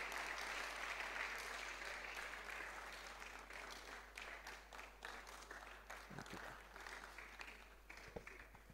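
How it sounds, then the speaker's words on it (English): Applause from an audience at a university valedictory ceremony for a retiring zoology professor, sustained and fairly distant, gradually thinning into scattered individual claps toward the end. "Please, let's keep clapping until she gets here."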